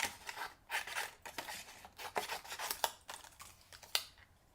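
Scissors snipping paper while fussy cutting around a printed card for a book box, a quiet, close series of irregular crisp snips and rustles with no talking.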